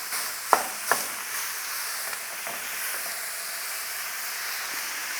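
Two kilos of beef mince brown in a saucepan with a steady soft sizzle and hiss, broken by a couple of sharp wooden-spoon knocks near the start and fainter scrapes later.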